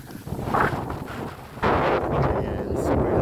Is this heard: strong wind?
yes